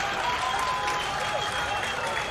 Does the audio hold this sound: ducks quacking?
no